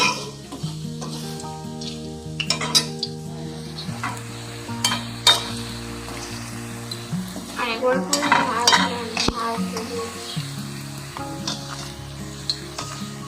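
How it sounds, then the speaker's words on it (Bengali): Flower paste fritters sizzle steadily in hot oil in a pan, with a spatula stirring and scraping at intervals; a few words are spoken briefly over the frying. "এইসব ভাজা, এই ভাজা হয়ে এসছে।"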